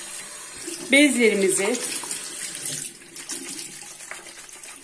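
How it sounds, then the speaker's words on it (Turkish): Tap water runs steadily into a sink while cleaning cloths are washed with white bar soap, close and continuous, with someone speaking briefly over the flow. "Bembeyaz su akıyor normalde."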